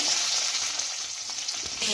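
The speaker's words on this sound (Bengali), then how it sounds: "ভেজে নেব আলু" Potatoes sizzling in mustard oil in a kadai, a bright continuous frying hiss heard up close with faint stirring underneath.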